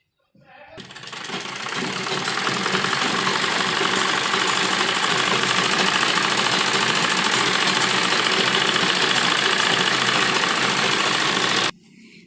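Sewing machine running steadily for about eleven seconds while double-stitching the side seams of a girl's side-dori frock; a loud, even mechanical whir that starts abruptly and cuts off near the end, with no talk over it.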